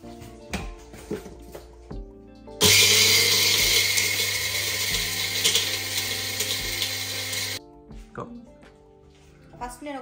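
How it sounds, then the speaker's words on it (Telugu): A mixer grinder whirs loudly and steadily for about five seconds as it grinds golden-fried masala spices for a quick biryani. It starts and stops abruptly, with quieter kitchen clatter and handling before and after. "ఈ గోల్డెన్ కలర్లో వేయించుకున్న మసాలాలన్నీ నేను ఇప్పుడు మిక్సీలో వేసుకుంటున్నా,"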